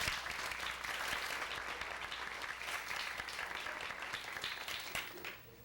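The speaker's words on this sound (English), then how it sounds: "Let's give her a round of applause." An audience claps steadily through a high school performance evening, a dense, even wash of applause that tapers off softly at the end.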